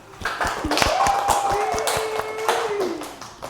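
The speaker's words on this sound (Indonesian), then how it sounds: "Oke, tepuk tangan." Classroom of students clapping their hands in a rhythmic pattern during a microteaching lesson, with sharp repeated claps and a few sung or voiced tones over them.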